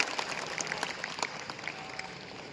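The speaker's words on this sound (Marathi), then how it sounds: "टाळ्या वाजवा ना जरा" An audience of students at a board exam guidance talk claps briefly, a soft, somewhat distant patter of scattered hand claps that fades out within a couple of seconds.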